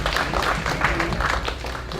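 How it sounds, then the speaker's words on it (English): Audience round of applause at a junior entrepreneurship forum, loud, close clapping from a crowd with some cheering voices mixed in, sustained throughout. "let's congratulate all of them with another big round of applause"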